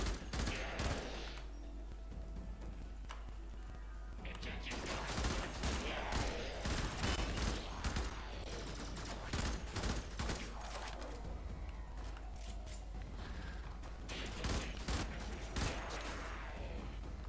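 Rapid bursts of continuous gunfire crackle through a Warframe battle, dense volleys stuttering on and off across the scene with brief lulls, loud and close, mixed with other combat effects and occasional talk.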